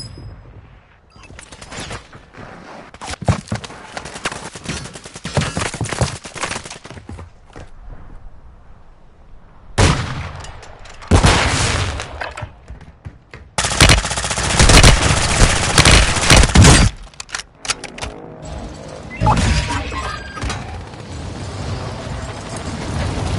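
Video game gunfire pours out in long, loud bursts of rapid automatic shots, broken by brief quieter gaps and a few heavier blasts, with no talking.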